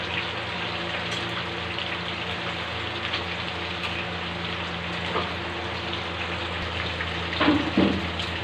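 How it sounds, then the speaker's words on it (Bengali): Rohu fish roe fritters frying in a pan give a continuous close sizzle and bubbling crackle, with a brief louder spatter near the end and no talking. "এক সাইড ভাজা হলে অন্য সাইড এইভাবে পাল্টে ভেজে নেব"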